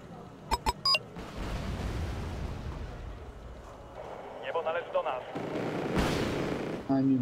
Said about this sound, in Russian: У них пушечная артиллерия в основном, пока зенитная.